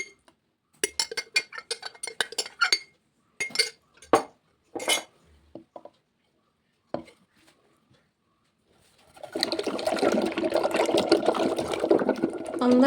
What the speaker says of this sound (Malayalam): ഒരു കലത്തിലിട്ട് ഇതങ്ങോട്ട് കടകോലിന് കലക്കിയെടുക്കണം